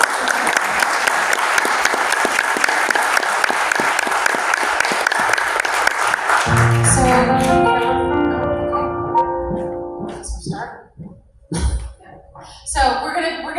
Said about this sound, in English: I would love to give her a nice round of applause